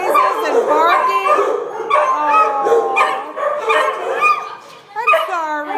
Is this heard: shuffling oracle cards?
no